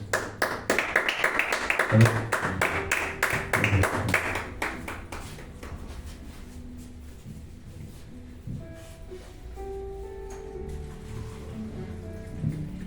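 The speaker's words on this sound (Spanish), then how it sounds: "Vamos a darle un fuerte aplauso, ¿verdad?" Loud clapping from a church congregation for several seconds, fading out into quieter room noise with scattered voices.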